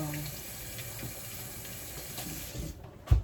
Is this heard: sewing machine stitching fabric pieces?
no